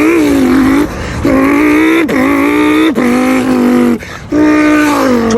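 A voice imitates a Lamborghini Huracan launch-control start, with loud, close revving bursts that climb in pitch, break off briefly for mouth-made gear shifts, and build up again across several pulls.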